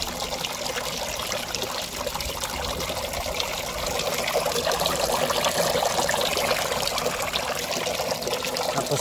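Steady water trickling and splashing through a homemade filter for a crayfish tank, continuous and fairly close, with no talking.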